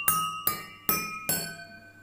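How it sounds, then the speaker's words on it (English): Four ringing clinks from a spoon striking water-filled glass tumblers, evenly spaced, each with a bright sustained tone that decays. The strikes are close and clear with no talk. "So I think you heard the sound that is produced when I am hitting the glass tumblers."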